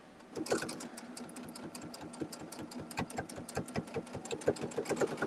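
Sewing machine stitching fabric prairie points, a steady fast mechanical chatter of needle strokes with a low motor hum, quiet and close with no voices.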